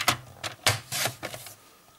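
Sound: cutting paper along a cutting line

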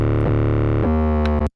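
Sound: synth patch All Sin from NR2, Slate Digital

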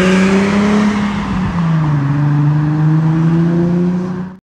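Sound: Nissan VQ engine with Manzo axleback exhaust

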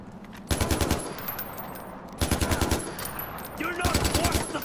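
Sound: gunfire in the video game Far Cry 4

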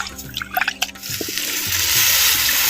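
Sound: pouring rice-washed water into a cooking pan

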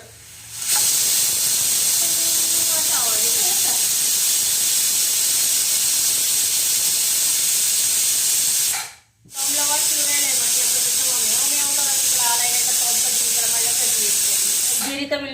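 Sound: pressure cooker whistle releasing steam

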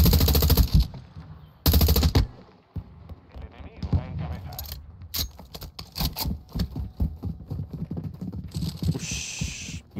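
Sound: gunfire from a weapon in the video game GTA

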